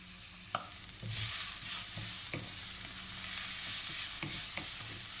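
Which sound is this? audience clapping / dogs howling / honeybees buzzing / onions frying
onions frying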